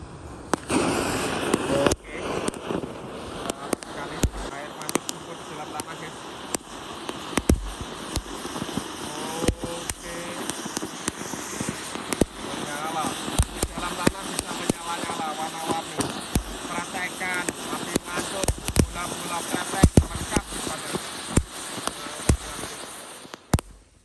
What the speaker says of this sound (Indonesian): Selanjutnya kita nyalakan mercon air mancur jumbo dalam tanah